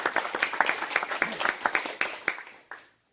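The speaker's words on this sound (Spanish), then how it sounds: "Un aplauso." An audience claps in a brief, fairly faint burst of applause at a cultural event honouring a historical figure. The clapping thins out and stops after about three seconds.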